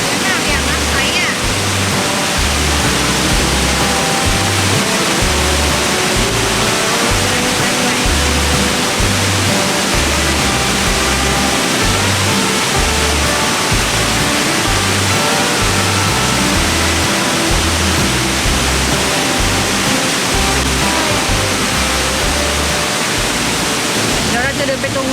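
Li Phi Falls in southern Laos roars as a loud, unbroken wash of falling water, steady and dense for the whole stretch, with a low rumble underneath and no clear speech over it.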